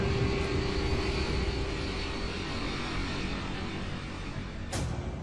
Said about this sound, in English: The plane rolls dramatically to the left.